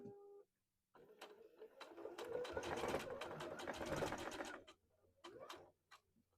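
A sewing machine stitches a skirt at a half-inch seam allowance, a steady close rapid run of needle clatter lasting several seconds, then brief stops and short restarts.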